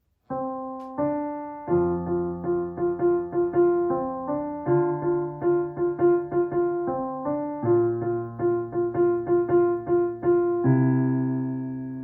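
A keyboard plays a simple, bouncy children's tune from start to finish, with steady repeated notes over low held bass tones, ending on a sustained chord.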